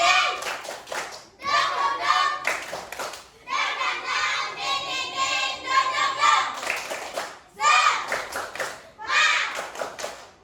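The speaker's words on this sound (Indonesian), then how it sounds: "coba kita tepuk semangat dulu. Tepuk semangat." A class of children claps in rhythmic spirit-clap bursts, several quick patterned rounds separated by short pauses, with voices chanting along.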